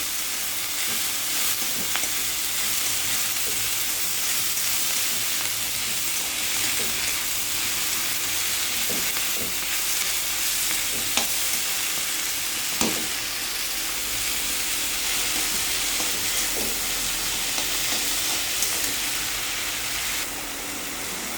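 Thankuni greens stir-frying with tomatoes in a pan for an Assamese shaak bhaji, a steady broadband sizzle with occasional scraping stir clicks, close and continuous, no voices.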